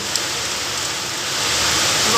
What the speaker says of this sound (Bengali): কি জোর বৃষ্টি নেমেছে